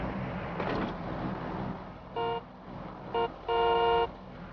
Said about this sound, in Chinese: 你按喇叭是想让飞机停下来吗？